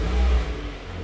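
A Volkswagen MK8 Golf R with an aftermarket exhaust firing up into a short, loud, deep rev that settles back to a lower burble, heard up close with no talking.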